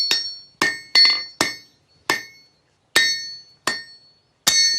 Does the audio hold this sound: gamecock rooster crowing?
no